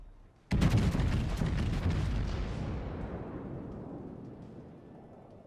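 A warship's heavy artillery fires in World of Warships, one deep, loud boom that rolls and slowly fades over several seconds.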